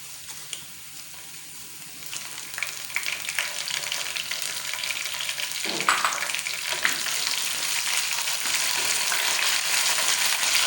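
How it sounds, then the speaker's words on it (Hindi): Curry leaves sizzle in hot oil with golden-brown fried onions for daal chawal. A steady, bright crackling hiss rises in intensity after the leaves go in, with brief stirring scrapes and no talk. "ये देखिए, प्याज गोल्डन ब्राउन हो चुकी है। अब हम इसमें कड़ी पत्ता ऐड कर लेंगे।"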